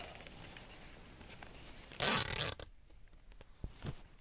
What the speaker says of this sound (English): Put the zip tie around it like that and then tighten it up.